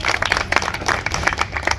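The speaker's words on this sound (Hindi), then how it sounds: "ऐसे नेतृत्व के लिए एक बार जोरदार तालियां होनी चाहिए" A crowd claps loudly at a park foundation-stone ceremony in Maujpur, a dense, close burst of many hands with sharp irregular slaps running continuously for a couple of seconds.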